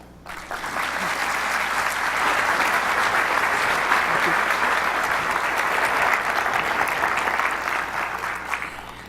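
An audience applauds to welcome Dr. Catherine Sullivan to a talk, steady sustained clapping from a sizable crowd that swells quickly and tapers off near the end, with no speech over it.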